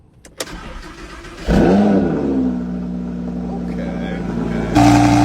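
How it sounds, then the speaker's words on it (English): A Lamborghini Huracan engine starts with a sharp crank and a loud flare of revs, then settles into a steady, deep idle before a second burst of revving near the end. "do you guys lift the knob before starting your Huracan"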